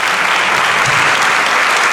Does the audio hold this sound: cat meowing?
no